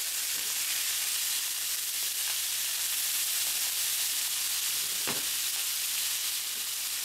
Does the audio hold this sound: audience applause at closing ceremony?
no